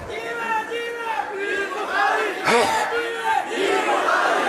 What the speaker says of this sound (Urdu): نعرے شخصی نہ لگائیے، بڑی خرابی ہوتی ہے ان نعروں سے